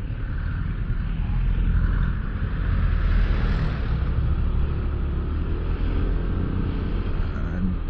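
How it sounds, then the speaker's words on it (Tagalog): Road traffic flows along a route near Daang Hari, a steady low rumble of passing cars and engines that holds throughout with no one speaking. "Yan yung traffic dito."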